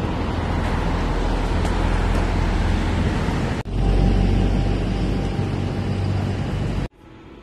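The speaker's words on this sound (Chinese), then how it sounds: "这边特别吵，这个街道因为货车太多了啊。" Noisy street traffic with many trucks roars past in Yanxia town, a converted Tang-style old town, as a loud steady rumble that briefly drops out twice before resuming.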